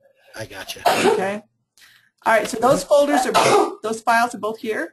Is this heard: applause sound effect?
no